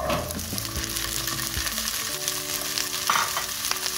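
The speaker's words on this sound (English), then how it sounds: "So now it's definitely starting to brown, so I'm going to add my chickpeas." Chickpeas sautéing in a pan with browned garlic for a vegan chickpea and spinach fricassee, steady close sizzling and light stirring with a few utensil knocks, no voices.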